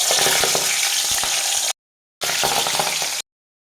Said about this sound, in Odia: ଏଠି ମୁଁ ଏଠି ତେଲ କଢ଼େଇରେ ଛାଣି